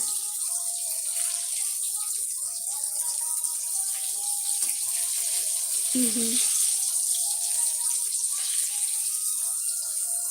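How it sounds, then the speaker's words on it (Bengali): Eggplant slices fry in a pan with a constant bright, hissing sizzle throughout. A short, faint vocal sound rises briefly near the middle. "বেগুন ভাজা হচ্ছে"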